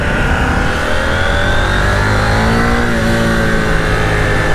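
A 2021 KTM 890 Duke R motorcycle engine pulls hard under acceleration, its loud, steady drone rising smoothly in pitch through the gear for several seconds with wind rush, close and without any talk.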